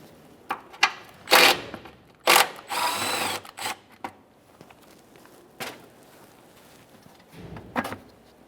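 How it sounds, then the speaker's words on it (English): Ratchet loosening the last mounting bolt on the washer fluid reservoir of a 2015-2019 Subaru Outback, a few short bursts of rapid clicking with brief scrapes and knocks in between, close up with no talking. "We're going to remove our final mounting bolt."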